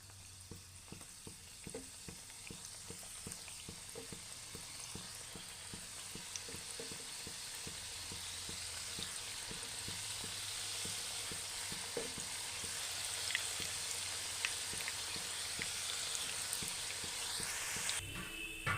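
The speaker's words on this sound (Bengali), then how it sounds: "এবারে আরেকটা ব্যাচ ভাজার জন্য দিয়ে দেব।" A batch of homemade sweets frying in oil gives a steady, close sizzle that builds slightly louder over time, with occasional stirring clicks and no voices.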